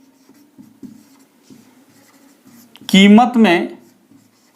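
A pen scratches on paper in short, soft strokes at a steady close pace, then someone speaks briefly over the writing.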